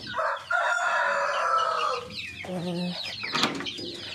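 A farmyard rooster gives one long, loud crow nearby, followed by a few short clucks and squawks from the chickens, with no one talking.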